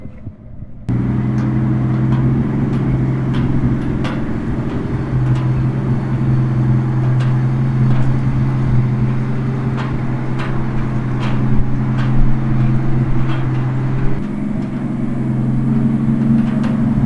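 An old truck engine idles steadily at close range, a loud, low rumble with faint intermittent clicks, running alone without voices.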